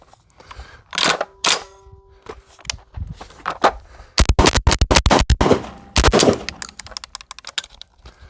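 A Tokarev TT12 shotgun fed from a 30-round drum fires irregularly at a range, with scattered single shots, a rapid string of blasts in the middle, mechanical clatter between them and a stoppage near the end.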